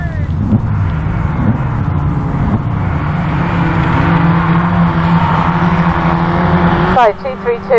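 Autograss race cars roar into the first corner at a grass-track meeting in St Neots, a loud sustained engine drone with revving under a commentator's voice, then a sudden drop and rising whine near the end.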